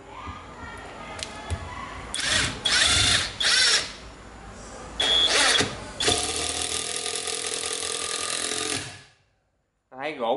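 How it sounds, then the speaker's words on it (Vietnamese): A cordless Japanese domestic-market impact driver sinks a 5 cm screw into very hard wood, giving several loud bursts of whirring and hammering that stop and restart, then one long continuous run before cutting off. "Đây mình bắn gỗ cho bạn xem nè."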